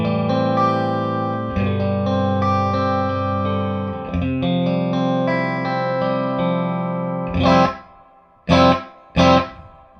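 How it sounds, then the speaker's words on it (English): Electric guitar played through a Matchless Chieftain amplifier with reverb added, sustained chords ringing with a lush tail, then three short loud strummed bursts near the end. "So now I'm going to bring in some reverb."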